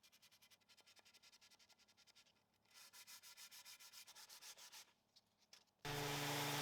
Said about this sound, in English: no project is complete without a little hand sanding